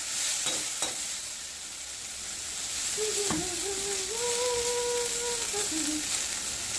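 Cluster beans (guar) are stir-fried in a hot pan, giving a steady sizzle with a few scraping stirs early on, and a faint whining tone rises over the frying partway through.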